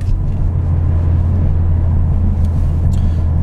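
A Mercedes AMG 45 cruises at about 60 km/h, giving a steady low engine drone and road rumble from inside the cabin, with a couple of faint clicks and no speech.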